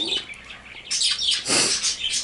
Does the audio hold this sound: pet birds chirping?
yes